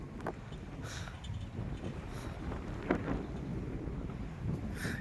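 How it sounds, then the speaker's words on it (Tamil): Strong wind roars steadily across an exposed hilltop about 1000 feet up at Pulikundu Hills, a loud continuous rushing buffet with gusty surges and no talking. "காற்று ரொம்ப சீற்றம் ரொம்ப அதிகமாக இருக்குது."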